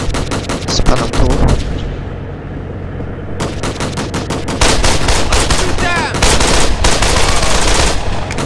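Gunfire in the video game Code of Honor, loud sustained bursts of automatic weapon fire with a brief lull in the middle before the shooting resumes and continues heavily.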